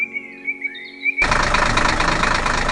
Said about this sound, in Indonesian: traktor merah sedang bekerja keras di tengah hutan hijau yang menggembirakan